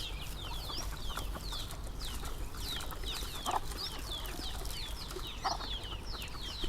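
Chickens clucking outdoors on a farm alongside ducks, with rapid repeated chirping calls running throughout over a low steady background rumble, fairly close and without speech.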